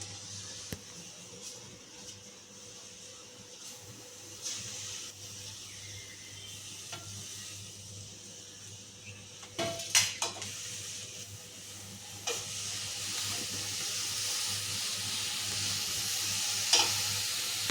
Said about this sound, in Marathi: या मिरच्या आपल्या भाजत आल्या. आता आपण याच्यात कोथिंबीर टाकू. कोथिंबीर पण भाजून घ्यायची थोडी.